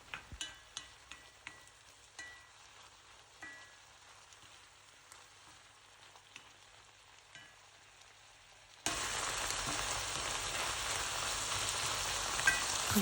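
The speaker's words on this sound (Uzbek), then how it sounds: "piyozni ham yaxshilab birgalikda qovurib olib" Chopped onions for a chicken-and-cheese pancake filling fry in a pan, starting with quiet crackles and light clicks before a loud, dense sizzle erupts and holds steady toward the end.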